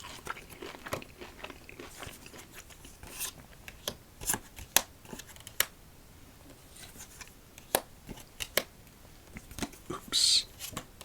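Playing cards for solitaire get gathered and shuffled in close, quiet ASMR style, giving a string of soft scattered taps, flicks and riffling snaps with brief pauses between them.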